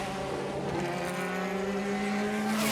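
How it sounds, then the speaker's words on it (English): A BOSS Ireland race car at the 2019 Kirkistown Festival braking into the track's slowest corner: a steady, loud, high-pitched engine drone with tonal harmonics, heard from a distance and continuing without a break. "Onto the brakes to the slowest corner on the track, and Fergus closing right in."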